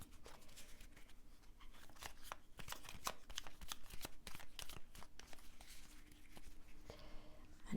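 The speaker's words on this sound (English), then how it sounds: "I know y'all like to see me shuffle" Tarot cards shuffled by hand, a rapid run of crisp riffling clicks and flutters close by, quiet and continuous, with a faint low hum underneath.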